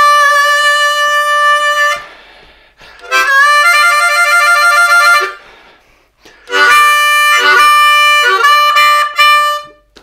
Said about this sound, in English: the 4 draw sounds great over everything